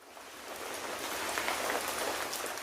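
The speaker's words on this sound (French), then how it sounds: "Cette pluie était si forte et bruyante" Heavy, loud rain pours down steadily in a small garden, a dense continuous hiss of drops with no voices.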